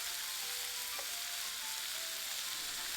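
Food in a pan of mango barbecue sauce with mango puree, being broken up and stirred with a spatula: a steady bright sizzle throughout, close, with faint scrapes and no talk.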